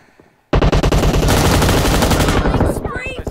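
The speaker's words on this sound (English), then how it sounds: "i have M249" An M249 light machine gun fires in a team deathmatch shooter game, a loud, rapid unbroken burst of automatic shots that starts sharply after a quiet moment and tapers off near the end.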